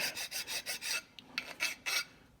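A metal file rasps along the edges of a part on a 1967 International Harvester Loadstar 1600 truck to smooth off burrs, in about eight quick, even strokes with a short pause partway through, close up and alone.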